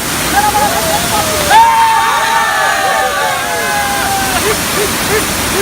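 Tirathgad waterfall, about 90 feet high, roars as a steady broad rush of falling water heard from nearby, with a crowd of visitors shouting and chattering over it throughout.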